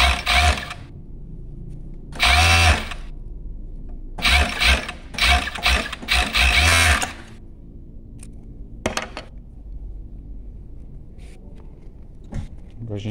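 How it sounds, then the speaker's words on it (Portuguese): A sewing machine stitching a sweatshirt runs in loud, close bursts of rapid mechanical whirring, first short runs and then a longer stretch, separated by quiet pauses with faint handling clicks. "A máquina é perfeita, não falha ponto, puxa super bem"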